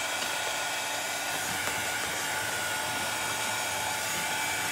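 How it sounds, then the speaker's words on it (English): A hair dryer blows over a painted gnome door hanger, a loud, steady, close whirring rush that runs unbroken throughout with no voices. "I'm going to throw the dryer over him"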